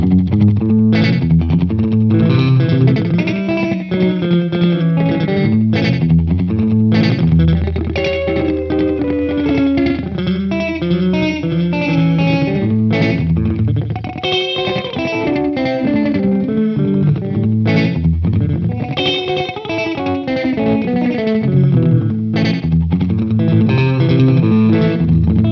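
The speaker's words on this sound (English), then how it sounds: "I've just dialed in a bit of a slap echo for you." Electric guitar runs through a serviced Roland Space Echo set to a short slap echo, a continuous country-style passage with quick doubled repeats on each note, loud and with no talk.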